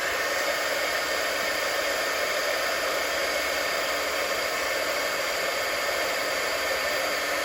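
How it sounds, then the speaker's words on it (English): A heat embossing tool blows a steady, loud whirring hiss of hot air over sparkly embossing powder on a papercraft card, running unbroken throughout with no talking. "So I'm going to heat emboss now."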